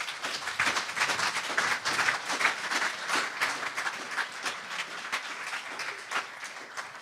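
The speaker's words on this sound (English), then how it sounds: "Please clap for that wonderful tribute." An audience at a memorial event applauds a tribute, an even spread of many hands clapping at moderate volume that continues for about seven seconds.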